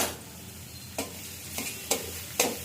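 Leafy greens fry in a little oil with a low, even sizzle. Four distinct spatula strokes scrape across the pan at uneven intervals, close and fairly quiet, with no speech.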